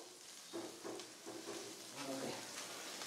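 Spices sizzle in a pan while cooking for Rajasthani Marwari kadhi, a close, steady frying hiss with light stirring scrapes and a voice speaking faintly.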